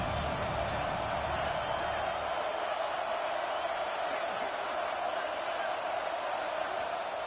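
Home Buckeye stadium crowd in the College Football 26 video game, roaring on a third down against the Crimson Tide: a steady, dense wall of cheering that fills the whole stretch at even volume.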